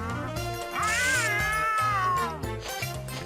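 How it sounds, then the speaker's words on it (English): A cat in the Petz Catz 2 video game lets out one drawn-out, rising then falling meow, clear and close, over a low repeating game tune. "when you're fighting animals, you just meow at them"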